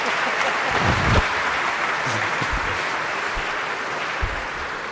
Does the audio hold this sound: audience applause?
yes